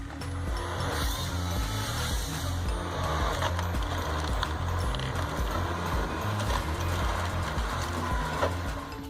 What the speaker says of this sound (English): This machine quickly turns large and long logs into small and uniform firewood.